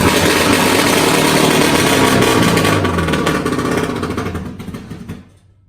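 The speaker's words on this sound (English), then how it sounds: "we're going to start up the 4-cylinder, the King Cat engine" A four-cylinder King Cat engine runs loud and steady with a rough mechanical rumble, then gradually winds down and cuts off near the end.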